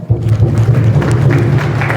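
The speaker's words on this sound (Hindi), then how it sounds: "इनके लिए तालियां बजाइए" An audience at a marriage preparation talk applauds, with loud, dense, continuous clapping and a low murmur of voices underneath.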